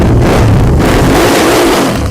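Motorcycle engine revving at a second-hand bike shop in Bangalore, a loud, close, continuous roar that swells and eases over about two seconds with no talk.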